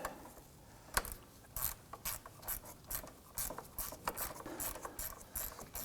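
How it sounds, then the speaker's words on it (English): Ratchet clicking as it runs a bolt into the AC condenser on a 2003-2014 Volvo XC90 3.2L, a series of short, close mechanical bursts with brief pauses, fairly quiet and without talk. "we'll go ahead and run that bolt in a little bit."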